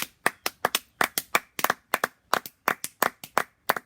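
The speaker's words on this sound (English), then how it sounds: "Can you hear how impactful and how louder that clap was, all of us together?" A group claps together in a Mandela Day live-streamed session, producing a brisk, rhythmic run of sharp, close hand claps, about five per second, loud and clear with no talking.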